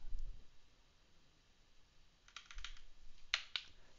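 Someone types on a computer keyboard while editing a config file: a few scattered, quiet key presses, then a short cluster of soft clicks and two sharper taps near the end, in an otherwise quiet room.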